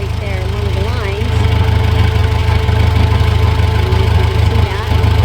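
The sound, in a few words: tractor engine running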